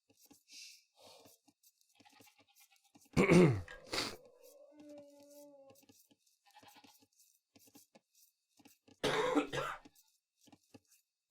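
Coughing and throat clearing from a person during a live esports tournament quarter-final broadcast, with a few sharp loud bursts standing out over near silence and faint background sounds.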